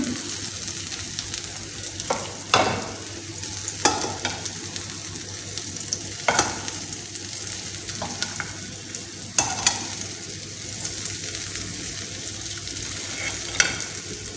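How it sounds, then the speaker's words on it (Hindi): Tender, precooked goat chops lightly fried on both sides in a hot pan, a continuous loud sizzle with occasional sharp knocks and scrapes as pieces are turned. No one speaks. "बस हल्का फ्राई करेंगे इनको। दोनों साइडों से फ्राई कर लेंगे।"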